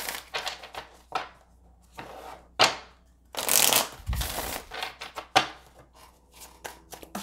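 Tarot cards being shuffled close up in a quiet room, a run of crisp riffling bursts and soft slaps with short pauses between, fairly loud and with no talking.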